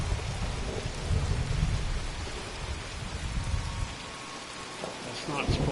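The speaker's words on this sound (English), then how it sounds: "how come it's raining right here though?" Rain falls steadily in the video game Fallout 76 with rumbling thunder beneath, a dense continuous wash of sound that stays loud and close, briefly easing before swelling again.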